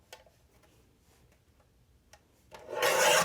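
Paper trimmer slicing through 6x6 craft paper into small strips for Hershey nugget wrappers: a few faint ticks, then a loud, close rasping cut lasting under a second at the end, with no talking.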